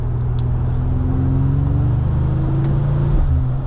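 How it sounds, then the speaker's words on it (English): A turbocharged 2025 Mercedes-AMG CLE 53 Cabriolet engine pulls hard under acceleration in Sport Plus mode, its deep, loud drone rising steadily in pitch with a faint whistling turbo whine riding on top. "You can really hear that turbo when you're on it in the Sport Plus modes"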